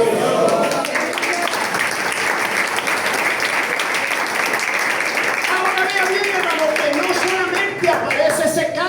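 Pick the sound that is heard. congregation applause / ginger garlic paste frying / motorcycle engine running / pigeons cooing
congregation applause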